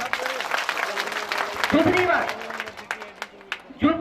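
An audience claps steadily in a dense wash of applause, while a voice rises briefly over the clapping partway through and again near the end.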